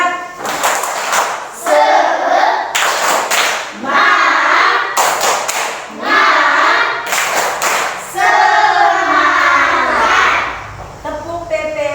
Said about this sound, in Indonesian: kita memberi tepuk semangat dulu ya